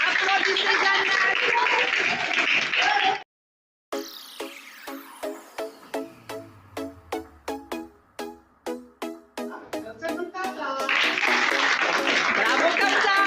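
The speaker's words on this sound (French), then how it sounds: "applaudissez Jannat." An audience at a school reading-aloud contest breaks into applause, a brief gap of silence follows, then scattered individual claps ring out before the crowd's clapping swells again, with some chatter mixed in.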